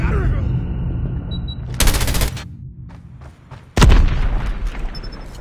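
Gunfire in the mobile shooter Call of Duty Mobile: two sharp, loud blasts about two seconds apart, the second heavier and booming, separated by quieter in-game sound.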